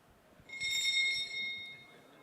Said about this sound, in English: This is just the bell